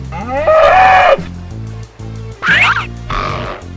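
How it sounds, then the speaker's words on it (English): A cow lows in a few drawn-out calls over a steady looping music bed, part of an animal guessing challenge with doors to choose between. "cow,"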